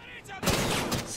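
Dense burst of gunfire from Call of Duty Ghosts on the Freeport map, a rapid fusillade crashing in suddenly and continuing loud and steady after a quieter opening.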